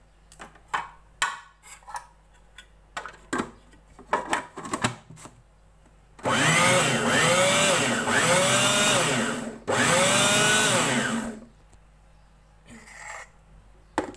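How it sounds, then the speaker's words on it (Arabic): An electric blender whirs loudly as it purées a fish mixture, running in two long steady bursts after some scattered clicks and taps. "اهم حاجة ان احنا نضرب الخليط ده كويس دلوقتي وننعمه"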